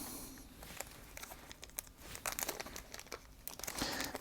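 Thin plastic bag crinkling close by while parts for an Ecto-1 model kit are unpacked, a steady run of soft crackles and rustles with louder bursts toward the end.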